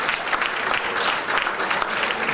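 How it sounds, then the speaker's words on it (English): Audience applause in a hall, sustained even clapping from a crowd for a couple of seconds with no speech over it. "so let's give them a nice round of applause"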